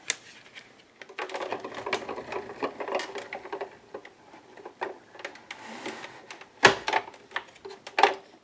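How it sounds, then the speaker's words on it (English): A Cuttlebug die-cutting machine embossing a half toilet paper roll coated in gesso: close, steady cranking and grinding with rhythmic ratcheting clicks, a couple of sharper knocks near the end, no one talking. "I'm going to run this through my Cuttlebug."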